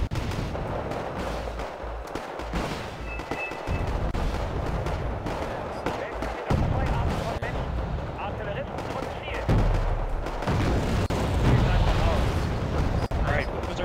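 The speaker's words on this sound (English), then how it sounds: "what's artillery fire on the left bridge?" Artillery and gunfire booms in the Wargame strategy game rumble in the background, repeated low thuds and bursts running beneath steady conversation among players.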